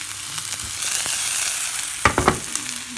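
Minced meat sizzling in a pan with olive oil and shallots, a steady close crackle of frying, with a few louder scraping stirs near the end.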